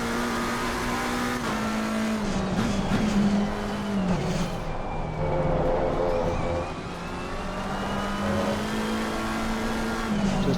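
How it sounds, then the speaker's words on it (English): McLaren 720S EVO race car in Assetto Corsa Competizione, a high-pitched screaming engine rising and falling through gear changes, with brief tire squeal, loud and continuous. "there's the sound of the car being a bit of a screamer on the headset compared to the pretty chilled out BMW"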